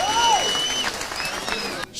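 Applause from a crowd at an outdoor political rally in Kajiado, Kenya, a steady wash of clapping lasting under two seconds before cutting off abruptly, with whistle-like tones sliding over it.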